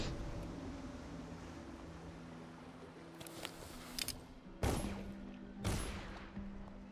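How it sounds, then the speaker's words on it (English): Distant gunfire pops in the video game Dishonored through a steady hum of background noise, a few scattered shots followed by two sharper bursts near the end. "I hear gunfire in the distance."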